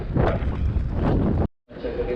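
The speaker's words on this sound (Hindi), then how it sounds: "और पवन बहुत है, तो सॉरी अगर आवाज़ ना आए।" Strong gusts on a high Himalayan mountain pass buffet the microphone, making a loud, rough roar that cuts out briefly near the end and then returns.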